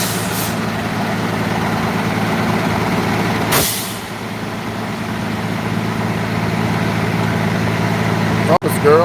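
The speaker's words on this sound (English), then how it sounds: "look at my bus right here." A bus engine idles with a steady, low, close rumble, broken by a sharp hiss of released air and a clunk near the end, while a person talks over it.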